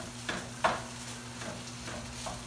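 Nopales, cactus paddles, sizzling and frying in a pan, with a steady crackling hiss and a few sharper scrapes and stirring bursts spread through the stretch.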